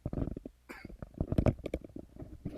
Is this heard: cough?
yes